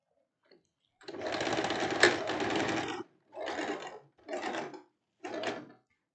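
Overlock sewing machine stitching a dress in a home sewing setup: one long continuous whirring run of about two seconds, followed by three shorter bursts, close and fairly loud with no talking.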